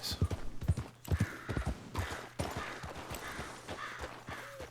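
Horse hooves clip-clop fairly quietly in the video game Red Dead Online, a loose cluster of close, sharp hoof strikes at first, then softer, scattered steps.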